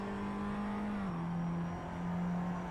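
A race car on the Val de Vienne circuit at Le Vigeant accelerates hard, its steady engine drone holding a high pitch and dipping slightly after a shift, heard alone with no talk.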